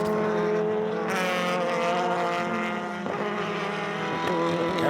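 SCCA race cars, including a rear-wheel-drive GT-style Toyota-engined car with a Tercel body, roar past on a circuit, a steady loud layered engine drone with shifting pitch and no talking.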